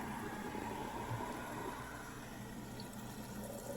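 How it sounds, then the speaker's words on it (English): A refrigerator's water reservoir fills from the household supply line, giving a steady, faint, hissing trickle of flowing water with no other sounds over it. "you can hear the reservoir filling up before water comes into your glass"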